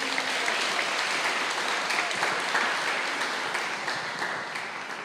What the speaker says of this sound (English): Let's give Jeff another round of applause